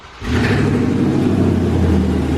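A Mercedes S550 engine catches and settles into a loud, steady idle with a deep rumble, heard up close and with no talk.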